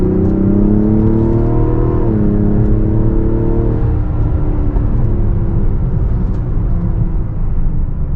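A 2025 Mazda CX-70 engine pulls loudly through an S-curve, its tone climbing, dipping at a shift, then rising again in a steady close drone.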